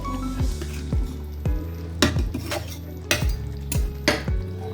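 Yogurt katla fish curry in a pan after the lid comes off, stirred with a utensil that gives repeated metallic scrapes and clinks against the pan, over a steady sizzle.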